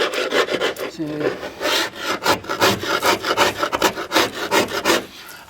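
A one-inch chisel scrapes ablative bottom paint off a boat hull in repeated rough, rasping strokes, loud and close, with a brief spoken word near the start.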